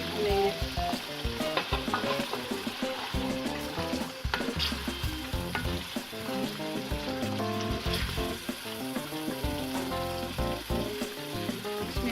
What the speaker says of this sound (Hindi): अब इसमें टमाटर ऐड करके इसको मज़ीद भूनेंगे